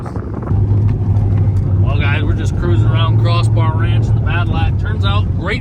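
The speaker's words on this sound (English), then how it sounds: "we're just cruising around Crossbar Ranch in the Badillac" A nitrous LS-powered Cadillac called the Badillac cruises around a ranch, its engine a steady loud drone with a low harmonic hum throughout as people talk over it.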